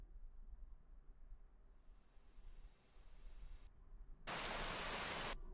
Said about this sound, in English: I just want rain